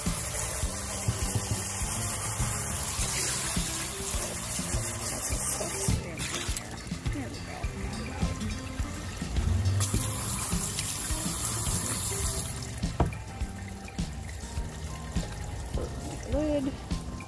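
Citrine crystals from a rock tumbler, cleaned with borax, are rinsed under a running tap into a sink, a close, steady rush of splashing water with brief pauses and shifts in flow, while someone talks.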